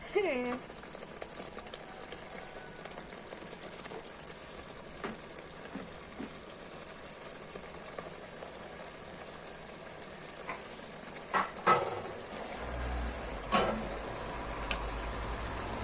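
Onions sizzling and frying in a pan while cooking lubia (bean stew), a steady soft crackle throughout with occasional stirring scrapes and brief clatter near the end.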